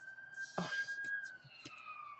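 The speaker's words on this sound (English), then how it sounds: "the hospital's nearby me as well, so you hear quite a lot of ambulances" A faint ambulance siren wails in the distance, a steady high tone drifting slightly in pitch, under low background noise with a brief knock.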